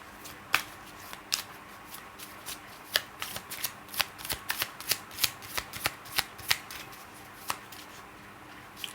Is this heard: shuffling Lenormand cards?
yes